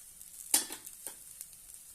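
A cucumber thalipith roasts in a hot pan after being flipped, giving a faint, low sizzle broken by a few soft scraping clicks, with no voices.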